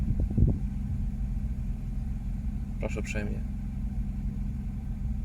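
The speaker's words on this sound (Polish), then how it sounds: "Tak pracuje silnik w tym aucie." BMW E36 330i engine idling with a reportedly uneven idle, a steady low rumble running throughout, with a brief spoken remark partway through.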